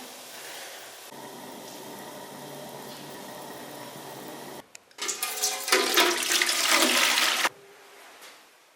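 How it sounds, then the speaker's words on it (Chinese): Clean water pours into a wok of stir-fried hot pot base with bay leaves, star anise and dried chilies, a loud rushing splash and hiss lasting about three seconds after quieter sizzling. "咱给它加点清水，咱再整点胡椒粉，来点盐。"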